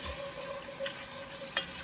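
Chicken broth pours and is stirred into a keto chicken stew, giving a steady liquid splash and sizzle with a faint clink of a utensil near the end.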